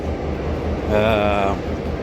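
Sydney train in motion, a steady low rumble of the carriage with a brief rising tonal whine from the motors partway through, heard from inside.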